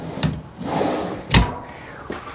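A few short wooden knocks and slides of pull-out drawers being opened and shut nearby in the galley of a 2022 Bounder 35K motorhome, with quiet pauses between each.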